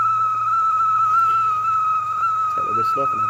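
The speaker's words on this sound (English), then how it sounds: "we're going to start hearing that whistle" A 0.5-litre Ghillie kettle whistles steadily as water boils over its fire, one loud sustained tone held throughout with faint crackle and a few short knocks near the end.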